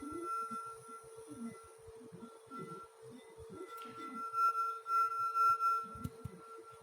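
A glass holding water rings with a thin, sustained tone over quiet low thumps and faint handling noises, the ringing steady and close throughout.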